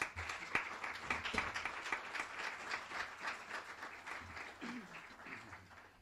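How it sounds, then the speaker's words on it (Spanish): A seated audience at the presentation of Inma Jiménez Jorquera's poetry book "Domine" gives her warm, dense applause. The many hands clap close by in a steady stream that slowly thins toward the end, and a voice briefly speaks over it. "Un aplauso para ella."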